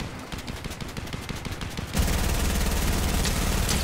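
Rapid bursts of automatic gunfire in a video game, loud and close, first as choppy rattling volleys and then a dense continuous barrage.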